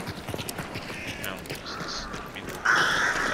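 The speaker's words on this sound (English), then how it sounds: "are those stealth crows?" Crows caw in Hunt: Showdown, a short burst of raspy calls and flapping set against scattered footstep-like clatter, close and fairly loud, growing harsher near the end.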